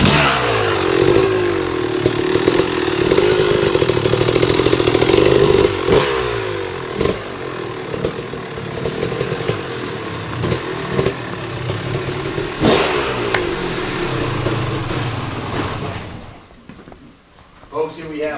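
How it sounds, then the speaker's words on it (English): A 2000 Kawasaki KX250 two-stroke motocross bike revs loudly and close, its engine note rising and falling in a ringing buzz throughout, with someone speaking over it. "here we have an absolutely pristine Kawasaki 250 stroke"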